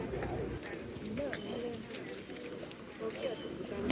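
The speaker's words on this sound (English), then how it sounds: "So many birds." Many pigeons coo around a lakeside spot in Taiwan, soft low repeated coos from several birds close by, mixed with light rustling and background chatter.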